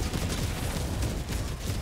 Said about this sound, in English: I like how it's kind of like a laser machine gun.